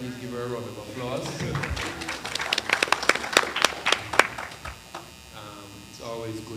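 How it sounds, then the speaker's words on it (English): A short burst of scattered audience clapping breaks out at an anti-trafficking committee event, framed by a speaker's amplified talk before and after. "Please give her a round of applause."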